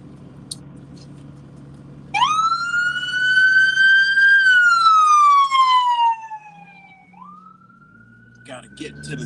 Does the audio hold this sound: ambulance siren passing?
yes